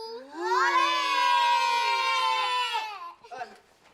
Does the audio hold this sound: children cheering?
yes